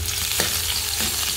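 Garlic and onion sauté in hot oil in a pan, giving a loud steady close sizzle with a couple of brief stirring scrapes and no voices.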